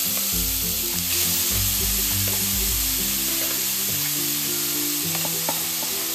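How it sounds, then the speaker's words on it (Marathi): Grated amla hits a hot pan with whole cardamom over a medium flame, giving a strong continuous sizzle with repeated scraping stirs, close and loud. "आता ना हा जो आवळ्याचा किस आहे तो आपल्याला यामध्ये टाकायचा आहे।"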